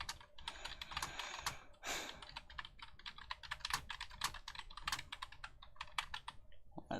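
Fingers type quickly on a computer keyboard, producing a continuous close stream of crisp key clicks with irregular rhythm and occasional short pauses, with no voices over them.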